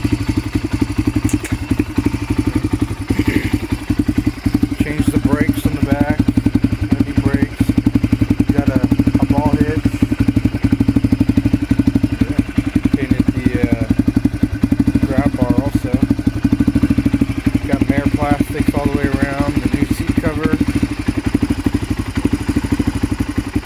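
A 1997 Honda TRX 300EX ATV idles after a cold start with a loud, steady, close single-cylinder thrum that runs throughout, while someone talks intermittently over the engine.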